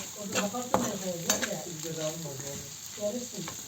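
Oil and food frying in a pan for chickpea stew, stirred with a utensil: a continuous close sizzle with scraping stir strokes and light clinks, a voice faintly murmuring underneath.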